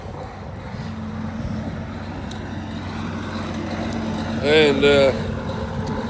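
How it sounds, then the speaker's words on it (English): A loud truck engine idles nearby with a steady low drone, while someone talks over it and a brief tonal whine rises near the end. "this guy's getting his truck all low, pre-tripped up. It is loud. His truck is loud."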